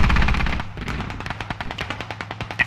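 Rapid bursts of video game gunfire crackle in a close, loud volley, trailing into a steady rhythm of sharp individual shots that continue to the end.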